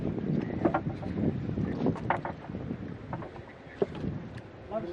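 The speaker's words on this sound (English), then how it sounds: "We're going to cross this river with that boat coming towards us." A boat crossing a river near a waterfall area, with steady broadband water and engine-like rumble plus wind buffeting throughout, a few brief louder knocks along the way.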